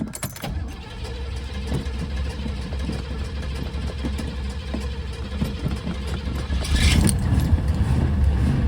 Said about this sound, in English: There she go.